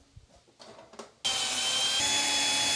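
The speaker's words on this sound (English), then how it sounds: "Put our two screws back in." A power driver runs screws back into a Kenmore Whirlpool washer panel, a sudden loud, steady whir that starts after a second of faint handling clicks and keeps going to the end.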